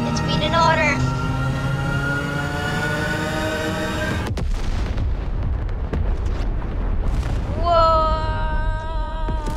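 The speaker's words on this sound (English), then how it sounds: "Oh, the volcano's erupting!" A volcano erupts in the video game Fortnite with a deep, sustained roaring rumble and booming blasts, loud throughout, while people shout excitedly over it.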